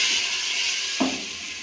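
Onion, tomato and chili frying in a pan, a steady close hiss of sizzling with a brief soft clunk partway through.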